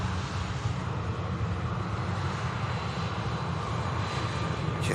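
Jet2 airliner at Manchester Airport, its jet engines producing a continuous, fairly loud roar with a broad rushing hiss and no talk.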